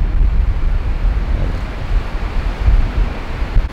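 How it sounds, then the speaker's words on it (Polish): Strong gusting wind buffeting the microphone outdoors near open water, a steady low roar with surges at the start and around the middle, no voices. "Bo wieje strasznie,"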